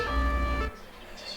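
A police siren from GTA 5 on an Audi Q7 police car, a steady wailing tone under low road rumble that cuts off abruptly partway through, leaving faint background noise.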